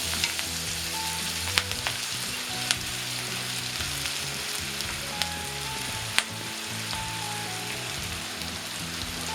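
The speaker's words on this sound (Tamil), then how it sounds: "தேங்காய் போட்டு வறுத்துக்கணும்." Grated coconut frying in a pan with onion, curry leaves and spices for a channa dal poriyal, a dense continuous sizzle with occasional crackles and stirring scrapes, close and loud.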